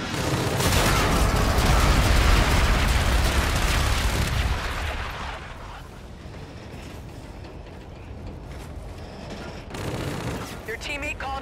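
Artillery bombardment in a shooter video game, a heavy rumbling barrage of blasts and booms that swells loud over the first few seconds, then thins to scattered mechanical rattles and distant impacts, with a game voice over it.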